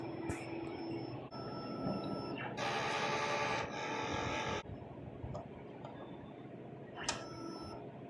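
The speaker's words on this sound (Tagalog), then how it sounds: "So after ko ma-on ang printer, so mag-head clean po ako." A DTF printer running a head clean hums and whirs through mechanical cycles, with bursts of louder grinding and clicking as its parts shift, then settles into a steady motor drone.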